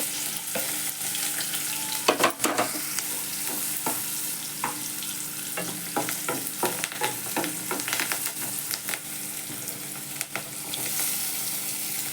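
Oil sizzles in a kadhai under a bright crackling hiss, with irregular clusters of sharp scrapes and taps as the contents are stirred.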